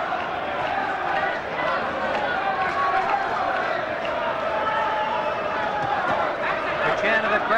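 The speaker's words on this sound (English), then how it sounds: "The chant of the crowd" A boxing crowd chants at the 1986 Steve Cruz versus Barry McGuigan fight, a loud, steady roar of massed voices that fills the whole stretch without letting up.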